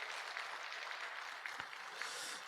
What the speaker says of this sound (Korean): 우리 목회자들을 향해서 우리 따뜻한 격려의 박수를 보내주시기 바랍니다